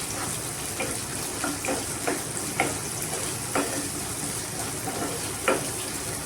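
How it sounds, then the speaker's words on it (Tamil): Onions frying in ghee in a pan as chicken is cooked, a dense continuous sizzle broken by repeated scraping stirs at an irregular pace, close and clear, with no voices. "வெங்காயத்தை போட்டு நல்லா செவந்து வர வரைக்கும் நம்ம வெங்காயத்தை வதக்கணும்"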